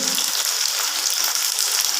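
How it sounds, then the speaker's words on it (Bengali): Paneer and vegetables fry in a hot pan for chilli paneer, giving a continuous, even sizzle that stays close and loud throughout with no talk over it. "এই দেখো ভাজা হয়ে গেছে পনিরগুলো"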